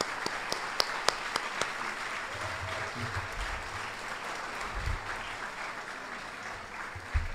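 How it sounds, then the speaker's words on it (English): Audience applause for inductees at a Chicago Silver Circle honors dinner, a soft, fairly distant patter of clapping across the room with a few sharper nearby claps at the start. "So a round of applause for our inductees."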